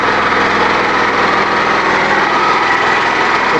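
A new small engine on the Gas O Matix 9000 runs steadily and loudly close by, a constant high-pitched buzzing drone with no break.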